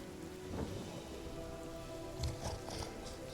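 Steady rain patters down in the video game Divinity Original Sin, a dense, hissing downpour with a few low rumbles of thunder, faint and continuous with no voices.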